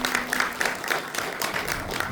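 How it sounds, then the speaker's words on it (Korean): Warm audience applause for two performers at a book concert event, dense crowd clapping sustained at a strong, even level for the whole stretch, without speech. "공연해 주신 두 분 선생님께 다시 한번 뜨거운 박수 부탁드립니다."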